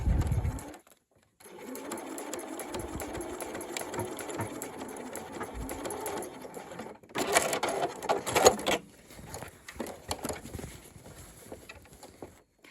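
Sewing machine running a long, steady stitching line along a lapped zip, close and even with a brief pause near the start and a louder burst of faster stitching later.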